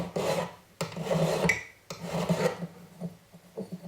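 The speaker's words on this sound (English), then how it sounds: "as you're sanding off that edge piece" Steady rasping of sandpaper rubbed back and forth on the edge of a sterling silver hexagonal box, in several strokes with brief pauses, close and fairly loud.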